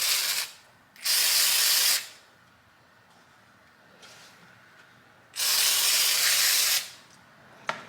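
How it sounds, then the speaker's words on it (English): Two long bursts of spray paint hiss as a Dollar Tree family sign is painted, each about a second or more, separated by a quieter pause, close and loud. "I'm going to try to spray paint this."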